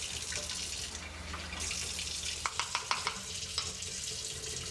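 Water running from a tap while making bacalaito batter in a home kitchen, a steady hiss followed by a few sharp clinks of utensils against a bowl.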